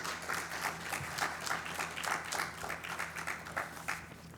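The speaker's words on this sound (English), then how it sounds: "let's give him a round of applause as he makes his way to the podium" A round of applause from a summit audience greets a speaker heading to the podium, heard as a soft, steady wash of clapping with slight swells and no talking.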